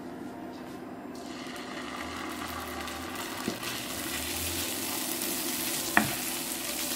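Garlic frying in sesame oil for a Chinese Manchurian chicken dish produces a soft, steady sizzle that builds gradually, with a couple of sharp utensil taps and no voices.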